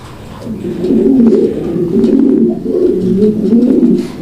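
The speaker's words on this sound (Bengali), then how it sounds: "কবুতর দেখেন কবুতরের ডাক দেখেন" Indonesian fancy pigeons at a breeding farm cooing close by, overlapping low rolling coos repeating in steady waves with no talk.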